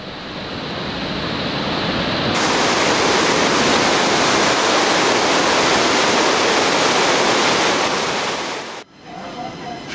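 The Marsyangdi Kola river rushes loud and close along a Himalayan trekking route around the Annapurnas, a dense unbroken roar of water that swells after a couple of seconds and cuts off near the end.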